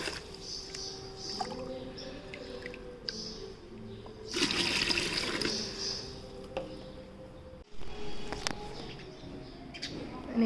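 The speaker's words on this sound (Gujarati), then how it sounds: "આવી રીતના ખાલી કરી નાખીએ અને પછી નવું પાણી ભરી નાખીએ." Water is tipped out of a lotus pot and fresh water poured back in, with a loud splashing gush in the middle and softer trickles around it, while small birds chirp faintly nearby.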